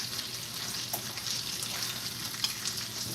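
Bacon and burgers frying in a pan, a steady close sizzle and crackle with small pops, fairly quiet and continuous throughout.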